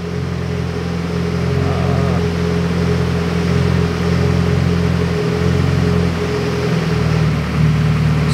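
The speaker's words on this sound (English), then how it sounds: "so you can hear the engine change." A car engine idles steadily at low pitch, loud and close, while being remotely tuned with extra fuel added, giving a continuous rumble with a slight shift partway through and no voices.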